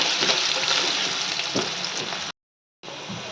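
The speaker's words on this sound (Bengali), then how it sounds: "দিয়ে আলুগুলো দিয়ে একটু ভালো করে ভাজতে হবে" Potatoes frying in a pan of hot spiced oil, a loud, steady, close hiss and sizzle that runs unbroken, cuts off briefly for about half a second, then resumes.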